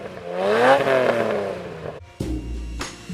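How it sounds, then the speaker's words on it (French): A Ferrari Testarossa's 390-horsepower flat twelve-cylinder engine revs up and holds a high whine, drops briefly, then rumbles low and revs again, close and loud. "Le monumental moteur 12 cylindres à plat de 390 chevaux est omniprésent."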